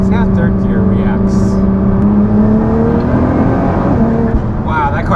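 A 1,000 hp Nissan GT-R accelerates hard in third gear, a loud, steady engine drone with a rising tone heard from inside the car, while a person talks over it.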